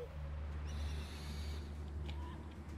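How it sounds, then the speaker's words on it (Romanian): An owl hoots faintly over a steady low ambient hum in the video game Far Cry Primal, summoned by the player. "putem să chemăm bufnița"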